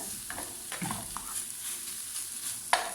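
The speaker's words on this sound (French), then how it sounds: "on va juste mélanger un petit peu" A tuna pizza topping mixture stirred in a frying pan over lowered heat, a soft low sizzle with intermittent scrapes and light clinks of the utensil, close and quiet.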